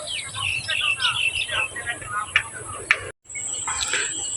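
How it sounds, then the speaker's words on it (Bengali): Baya weaver birds at sunset, a busy chorus of overlapping chirps and twittering calls, fairly close and lively, with a brief dropout near the end. "এগুলো হচ্ছে বাবুই পাখি"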